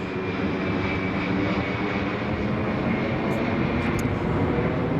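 A fixed-wing aircraft flies overhead near Manchester Airport, its steady broadband engine roar loud and continuous across the whole stretch with no talk over it.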